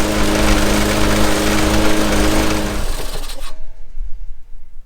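A Massport Contractor 21-inch push mower runs with a steady, loud engine drone, then cuts off about three seconds in, leaving fading rattles and quiet.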